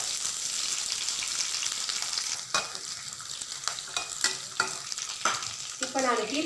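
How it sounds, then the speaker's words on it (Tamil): Chopped onions sautéing in a pan for a ridge gourd and carrot chutney, a constant soft sizzle with several sharp spatula scrapes and clicks against the pan in the second half. "ஸோ இந்த வெங்காயம் மட்டும் நல்லா வதங்கட்டும்."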